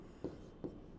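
Chalk or marker strokes on a board during a physics lecture, three short soft taps and scrapes spaced evenly over about a second, faint and close, with no talking.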